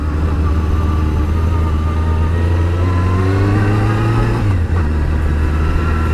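Motorcycle engine pulling away uphill in first gear on a Gran Canaria road, a steady loud drone that rises in pitch over several seconds, then drops abruptly as the gear or throttle changes.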